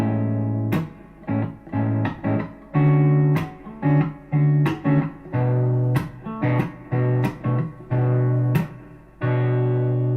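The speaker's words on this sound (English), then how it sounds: "quite simply, you could make them all 7 chords." Strummed guitar major seventh and minor seventh chords ring out one after another with short pauses between them, a clean, sustained progression of rich-sounding chords with no voices.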